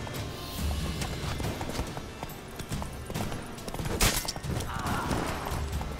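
Horse hooves clip-clopping at a run in The Witcher 3 video game, a continuous rapid patter through six seconds with game effects and a faint voice over it.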